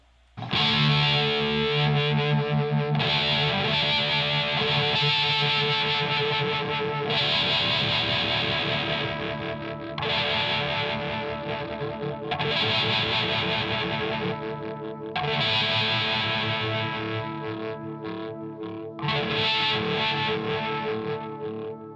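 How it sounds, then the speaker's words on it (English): Distorted electric guitar chords ring out through an Iset phaser pedal set fast with heavy metal distortion, the tone warbling and sweeping quickly; phrases are repeated with short gaps between them. "The speed goes from a real fast warbly kind of a sound when you have it up."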